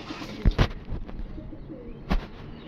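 Domestic pigeons kept indoors give a few soft cooing calls, short low bursts with a pause between them, against a quiet room background.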